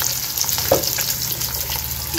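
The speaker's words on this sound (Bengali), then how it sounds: "আর এদিকে হচ্ছে মাছ ভাজা, অলরেডি মাছ দিয়ে দিয়েছে কড়াইতে" Topse fish fry in a wok, giving a steady, close hiss of hot oil that runs the whole time, with one small spatter partway through and no talking.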